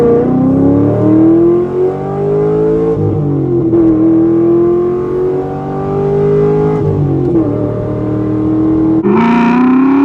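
A Corvette pulls hard through second gear, its engine note climbing loudly and steadily, briefly dipping at gear changes, then revving higher near the end. Close and dominant, with no speech.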